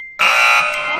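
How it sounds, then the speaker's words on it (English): A single loud, harsh electronic buzz sounds abruptly after a faint tone and holds steadily to the end, like a quiz-show buzzer. "He leant on the buzzer."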